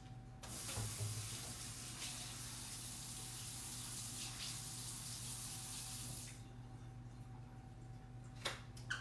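Water from a kitchen tap runs steadily into a small saucepan holding gravy ingredients, a continuous close hiss that shuts off near the end, followed by a couple of faint clinks.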